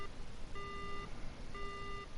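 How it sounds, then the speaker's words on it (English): Two identical electronic tones, each about half a second long with a short gap between, sound as a phone line goes dead in the horror game Death Mark, steady and moderately faint over a hissy background with no speech. "The phone goes dead."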